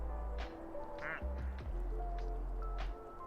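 Ducks quack several times in a video game, clear and close over a low background hum and tonal game music.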